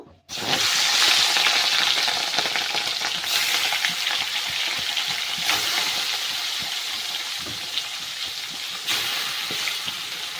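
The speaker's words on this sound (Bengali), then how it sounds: "তেল গরম হয়ে গেছে মাছগুলোকে ভেজে নেব" Rohu fish pieces frying in hot mustard oil in a kadai over a gas flame, a loud continuous sizzle with crackling bursts and occasional stirring or splattering, close up.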